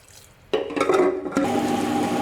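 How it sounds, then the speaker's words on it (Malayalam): Water is poured into soaked rice flakes in a kitchen grinder jar for dosa batter, a sudden close splashing pour that swells and gurgles with liquid trickling, then continues as a steady watery rush. "ഇനി ഇതിലേക്ക് ആവശ്യത്തിന് വെള്ളം ഒഴിച്ചിട്ട് നമുക്കിതൊന്ന് അരച്ചെടുക്കാം."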